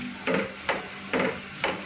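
Kadhi being stirred in a pot, four evenly spaced scraping strokes of a spoon against the pot, close and moderately loud with no voices.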